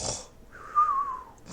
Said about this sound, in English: people in fantasy settings snore like cartoon characters